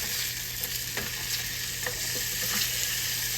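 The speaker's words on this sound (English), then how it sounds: "Let me turn my sausage. I don't want to burn my sausage," Deer sausage frying in a pan and being turned over, a close, steady sizzle and crackle with a few soft scraping clicks as the pieces are flipped, no talking.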